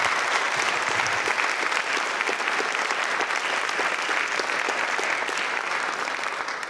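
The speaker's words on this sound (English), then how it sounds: "Let's give him another round of applause." A crowd at a talk event gives a sustained round of applause, dense and even clapping filling the room for nearly seven seconds with no speech over it.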